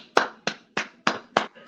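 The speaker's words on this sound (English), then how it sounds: "give her a round of fucking applause" Five slow, evenly spaced hand claps from a single person, close and crisp, with short silences between them.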